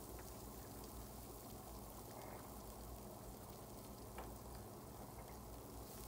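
Sliced onion and peppers fry in a pan with a steady, soft, even sizzle that stays level throughout, with no one talking.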